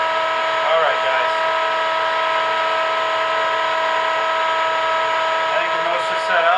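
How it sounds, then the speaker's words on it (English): A shop vac drones loudly and continuously throughout, a steady whining hum with strong tonal harmonics that never lets up, with brief faint sounds over it. "Sorry, the loud noise in my shop vac."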